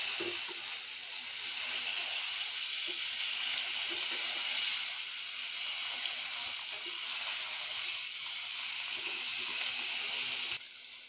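Kalibaus fish pieces fry in a pan with a steady, close sizzling hiss that holds nearly unbroken throughout, broken only by a few faint clinks of the pan.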